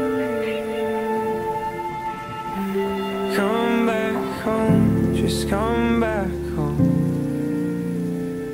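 Steady rain patters continuously beneath a sung pop ballad, a soft, even hiss of drops that stays constant while the singing voice and instruments carry on over it.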